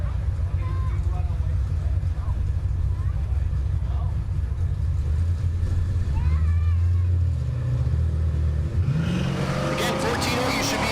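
Drag racing at a Great Bend, Kansas dragstrip: a C10 pickup and a Mustang idle and rev loudly at the line, with steady low engine rumble and a louder burst of acceleration near the end, under a commentator's voice.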